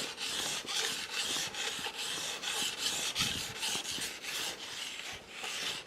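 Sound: sharpening a knife on a whetstone

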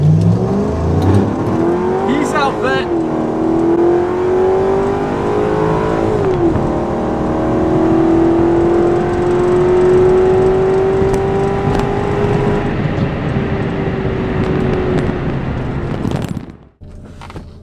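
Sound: Corvette accelerating while racing a C5 Corvette

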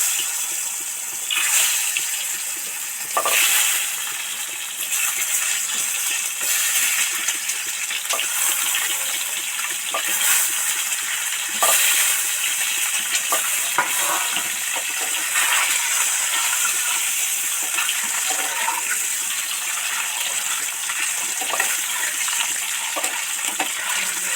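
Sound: eggs frying in oil

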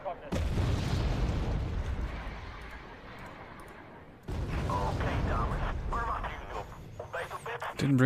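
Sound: bomb explosions in the video game Wargame Red Dragon

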